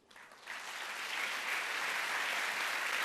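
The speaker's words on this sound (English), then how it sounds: "This is your applause." Sustained audience applause closes a leaders' panel at the Bled Strategic Forum 2023, building quickly within the first half second into a dense, steady wash of clapping that holds loud and even to the end.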